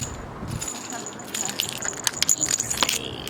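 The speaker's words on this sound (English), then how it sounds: "I don't know where the car keys are" Car keys jangle close by in a van, a bright metallic rattle with quick clinks coming in bursts, while people talk quietly.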